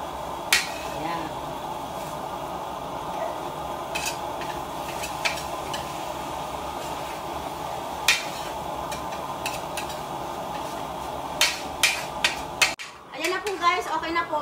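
Eggs being stirred in a frying pan, with a utensil clinking and scraping against the pan in scattered taps over a faint sizzle, the knocks growing busier near the end.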